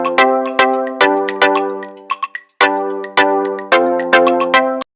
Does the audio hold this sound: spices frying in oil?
no